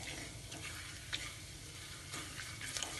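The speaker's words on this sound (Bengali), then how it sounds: "দিয়ে দেব দারচিনি আর শাহি জিরা। এইবার একটু নাড়িয়ে নেব" Cinnamon and shahi cumin sizzle in hot oil in a pan, a steady soft frying hiss with light scraping clicks as the spices are stirred.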